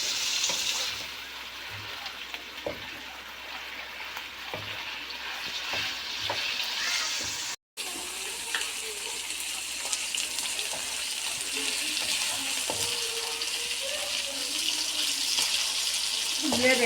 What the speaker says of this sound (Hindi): मैंने गोश्त डाल दिया है और इसको मैंने हल्का ब्राउन करना है